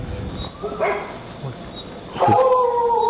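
Dogs bark and yip a few times at a distance at night over a steady high insect chirring, while people talk nearby.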